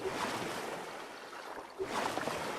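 Paddling on water in the survival video game Stranded Deep, with broad splashing and washing surges at the start and again near the end, over a constant sea-and-wind hiss, with no talk.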